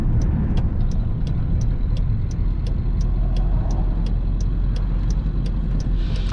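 A 1996 Ford F-350 with a 7.3 diesel and straight pipe drives along, a steady, loud low drone heard from inside the cab with faint rhythmic ticking over it.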